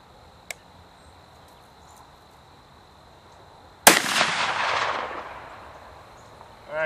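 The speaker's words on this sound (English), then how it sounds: "All right, that was the first shot." A single loud rifle shot, fired while sighting in a larger gun outdoors, cracks close by and then rolls away in a long echoing decay, with insects chirping steadily in the background.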